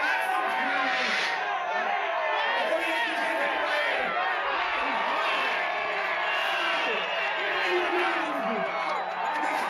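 A Tea Party protest crowd hollers and cheers in a dense, continuous roar of many voices with whoops and shouts, loud and steady throughout.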